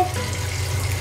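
Water runs steadily from a tap while a cat is being bathed, a continuous close hiss with no voices over it.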